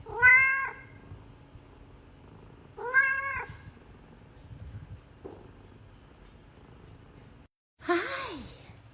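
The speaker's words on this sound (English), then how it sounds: "Being a good cat." A house cat meows twice, about three seconds apart, clear and close, with a quieter sound later and a short breathy vocal at the end over a faint, quiet room.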